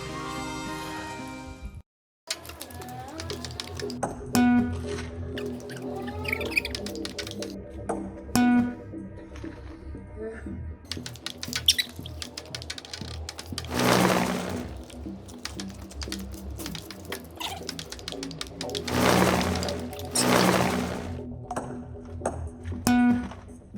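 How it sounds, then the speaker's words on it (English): Sped-up ping pong rally against a table tennis backboard, with rapid high pings and taps of the ball bouncing in quick irregular bursts, interrupted by a brief gap and a few louder swishes. "this hysterical sped up footage of me playing ping pong with my new ping pong backboard"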